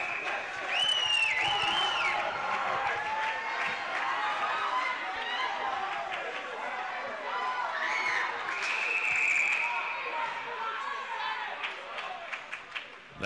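A hockey crowd at a high school game between Peters Township and Butler chanting and cheering in an arena, a steady loud roar of many voices with rising shouts, sustained throughout and ending in a few sharp claps.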